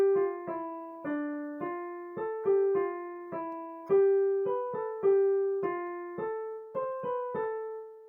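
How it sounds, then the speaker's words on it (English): Single plucked notes in a steady rhythm, played as short melodic figures that repeat at gradually higher pitches, soft and clean with no talking. "which is why it's called a melodic sequence"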